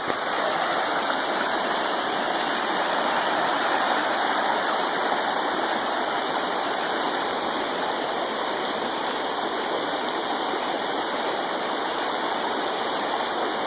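Stream water rushing steadily beside a backpacking trail at Dolly Sods, a loud, continuous, close wash with no other sounds.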